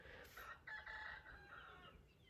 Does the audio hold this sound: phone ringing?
no